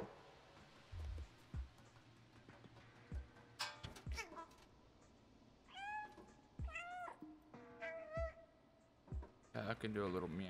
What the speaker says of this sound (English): Can do a little meow.